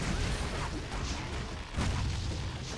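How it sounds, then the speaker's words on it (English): Cannon fire in the video game Torchlight II, heard as dull booming thuds over a steady game backdrop, with a stronger burst near the end of the short stretch. "It's cannon."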